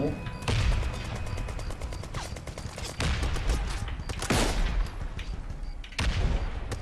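Heavy gunfire from the shooter game Brothers in Arms 3, with rapid bursts, booming shots and blasts that continue without a break and stay loud and close, while someone talks excitedly over the action.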